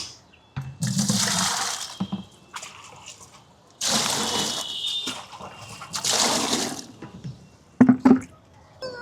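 Water gushes from a tank into a bucket in several separate splashing bursts with short pauses between them, close by and fairly loud.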